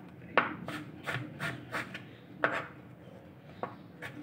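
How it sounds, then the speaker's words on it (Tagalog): A knife slices lengthwise through salad vegetables on a cutting board, giving a series of distinct, irregular cuts, close and fairly quiet. "Slice lang natin siya ng pahaba."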